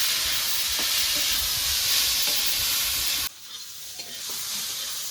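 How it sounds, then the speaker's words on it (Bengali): Yardlong beans stir-fry with salt in a hot pan, a loud steady sizzle with occasional stirring knocks that drops abruptly to a quieter, softer frying hiss partway through. "এবার নেড়ে ছেড়ে বটবটিগুলোকে ভালো করে ভেজে নেব"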